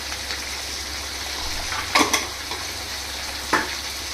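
Chicken sizzles and fries in a hot kadai for biryani, a steady hiss with a few sharp scraping clatters from stirring, close and fairly loud.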